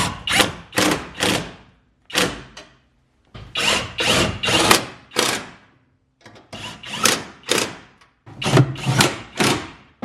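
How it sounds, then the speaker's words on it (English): A power tool whirs in repeated bursts, each a few seconds long with short pauses between, loud and close, like an impact driver running bolts tight on an Audi RS3 build. "and then do all the bolts up."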